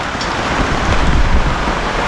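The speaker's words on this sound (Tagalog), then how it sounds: "Umuulan na naman." Rain falling outdoors, a dense steady wash of droplets with rumbling wind-like noise underneath, loud and continuous with no voices.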